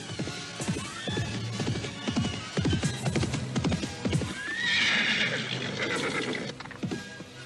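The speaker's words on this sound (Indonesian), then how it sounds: "tiba-tiba mereka dikejutkan oleh derap kuda yang datang ke arah mereka" Horses gallop in toward the listener for an audio drama, with rapid clip-clop hoofbeats building over several seconds, and a loud neigh or whinny cutting in partway through.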